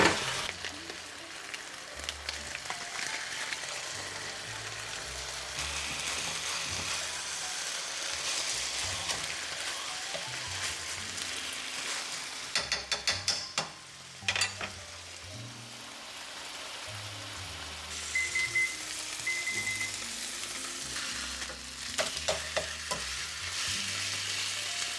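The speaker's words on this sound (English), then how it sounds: "let's go ahead and push this meat over to the side, and then we are going to proceed with cooking" Ground beef frying in a pan, with a steady sizzle and scraping, clattering stirring strokes, set against quiet background music.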